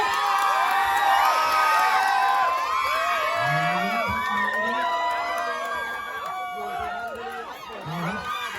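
Spectators at a Thai boxing match in Suphan Buri cheer loudly and continuously, a dense roar of shouts, whoops and voices swelling and dipping without pause.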